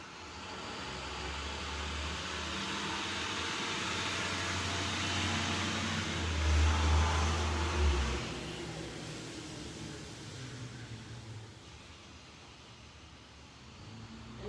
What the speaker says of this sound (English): All those school buses going by.